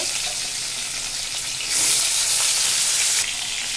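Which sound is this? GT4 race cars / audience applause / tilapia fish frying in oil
tilapia fish frying in oil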